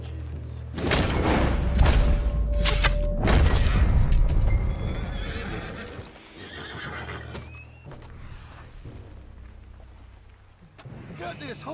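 A spooked horse in the video game Red Dead Redemption 2 gives loud, repeated whinnies and neighs over hoof clops, with booming thunder and rain in the background.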